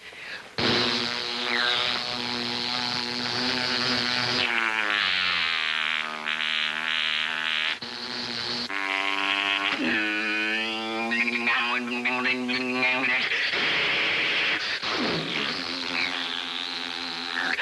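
A voice imitates a squadron of warplanes bombing a city, a sustained buzzing hum with wavering pitch that swoops and dives, loud and continuous for many seconds.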